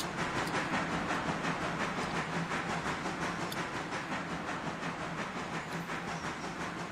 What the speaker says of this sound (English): this hulking machine of iron and fire and steam